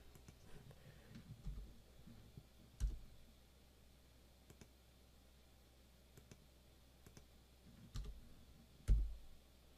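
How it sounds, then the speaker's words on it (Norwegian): Sparse keystrokes on a computer keyboard, quiet isolated clicks spaced irregularly with a few heavier taps, close by in a near-silent room with no voices. "Så jeg trykker 5 på tastaturet her nå."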